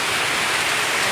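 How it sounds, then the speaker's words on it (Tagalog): Heavy rain pours down steadily, a dense, even hiss of water with no breaks. "Lakas ng ulan, naliligo yung dalawa sa ulan."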